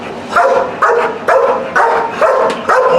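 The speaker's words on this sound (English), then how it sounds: "Because if you look at Axel here and you see him barking at you," A dog barks repeatedly at close range, six sharp evenly spaced barks in quick succession with no other sound around them.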